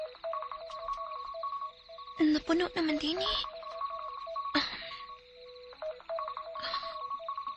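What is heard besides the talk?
mobile phone alarm ringing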